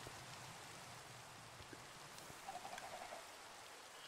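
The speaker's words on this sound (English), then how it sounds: "And of course, it's raining." Steady, quiet rain hisses over the ground in the Minecraft game, running with the ATM 8 modpack, with a faint warbling bird call rising briefly near the end.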